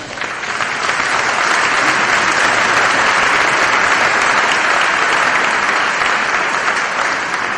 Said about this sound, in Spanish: nuestro querido aplauso.